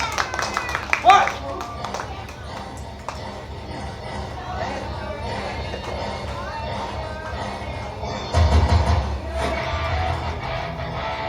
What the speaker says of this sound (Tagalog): palakpak muna tayo, kids